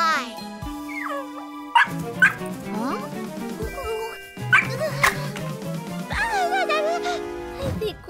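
A toy puppy yips, barks and whimpers in a busy, high-pitched electronic manner over continuous background music, with repeated short bursts across the whole stretch.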